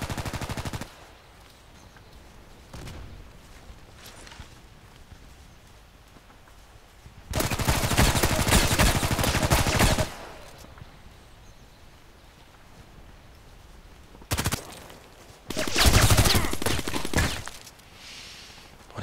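Automatic gunfire in the online shooter Contract Wars comes in a few loud sustained bursts separated by quieter stretches with occasional single shots.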